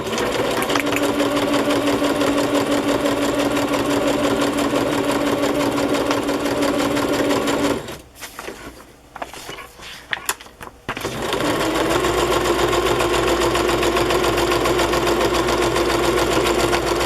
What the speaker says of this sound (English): this is not adhering, so I'm going to have to sew it on